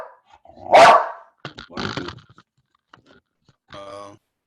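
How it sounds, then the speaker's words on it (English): A boxer dog barks once loudly and close, followed by softer huffing and growly vocal noises and a brief whine-like tone, with quiet gaps between. "I've got my dog sitting by me. I've got a boxer."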